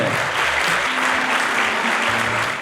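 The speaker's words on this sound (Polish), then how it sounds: "Wielkie brawa, gratulujemy serdecznie." Audience at a university award ceremony applauds steadily and loudly throughout, a dense continuous patter of clapping with no speech over it.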